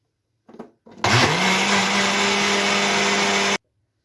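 Electric blender whirring steadily at high speed, mixing oil and orange juice for an orange cake batter, starting after a few brief clicks and running loud and continuous for about two and a half seconds before cutting off.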